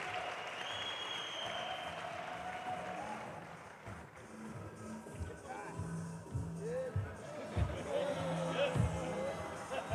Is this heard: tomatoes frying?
no